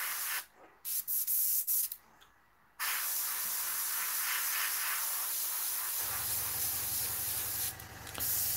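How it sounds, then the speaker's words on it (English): An airbrush sprays in short bursts and then in one long, steady hiss close to the mic. A low hum joins in near the end, and there is no talk. "I'll have to give the airbrush a good clean after this"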